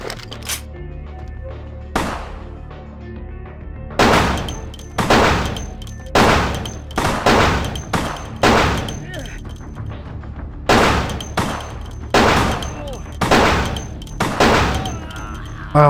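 Gunfire in the video game Vampire The Masquerade Bloodlines: loud, sharp shots fired in irregular single and paired bursts with decaying tails, a player's voice speaking between them.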